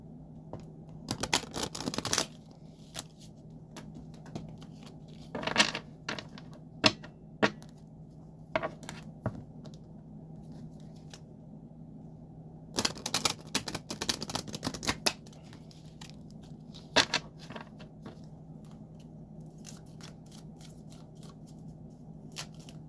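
Lenormand cards being shuffled, heard as scattered bursts of crisp, papery riffling and clicks separated by quieter stretches, close and moderately loud with no talking.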